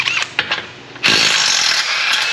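Power tool on a straight-on socket loosening a stripped car subframe bolt: a few short bursts, then a loud, continuous, close-up whirring rattle that holds steady to the end.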